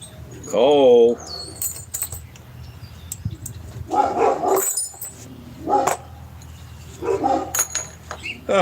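Dogs bark in several short bursts, one close and sharp early on, then repeated volleys from a bit further off, with a person talking between the barks.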